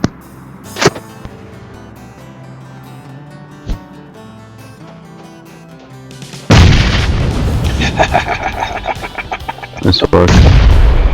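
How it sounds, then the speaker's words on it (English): A few sharp shots crack out over an ambient game soundtrack in PUBG Mobile, then a heavy grenade blast booms loud and close, followed by rumbling debris and another loud burst, with a voice speaking briefly. "think I can hit him with the grenade from here"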